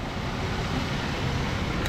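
A Jeep's engine runs steadily at idle after detailing, a constant low broadband rumble with no change in pace and no voices.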